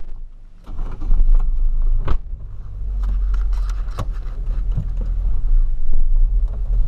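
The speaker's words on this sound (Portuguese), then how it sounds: "Primeira vez no carro rebaixado, velho." A lowered car rumbles along on a short ride, heard from inside the cabin, with a low steady road and engine drone, scattered knocks and rattles, and a couple of sharp thumps from bumps.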